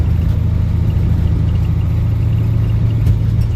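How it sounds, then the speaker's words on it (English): A 1985 Ford F-8000 with a turbocharged CAT 3208T diesel rumbles steadily, heard from inside the cab with the windows up, a deep, even, loud drone with no talking. "Just hear the engine. Sounds beautiful, actually, the engine."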